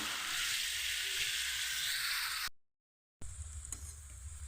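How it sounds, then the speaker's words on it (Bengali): Potatoes fry in a pan over a low-to-medium gas flame with a steady broadband sizzle. It cuts out briefly to silence, then returns with a lower, softer hiss. "দেখুন বন্ধুরা আমি লটু মিডিয়াম আছে আলুটাকে ভেজে নিচ্ছি"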